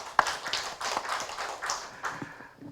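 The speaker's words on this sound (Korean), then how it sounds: "광주 지역자활센터에 다시 한번 큰 박수 부탁드리겠습니다." A small audience at a forum on urban regeneration and resource recycling gives scattered, fairly quiet applause, a few uneven claps and taps rather than a full ovation.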